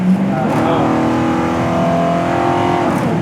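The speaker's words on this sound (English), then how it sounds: "I love hearing the carburetors open up" A 1964 Pontiac GTO Tri-Power's throaty engine roars as its carburetors open up, its pitch rising smoothly through a strong, loud pull, heard close from inside the car.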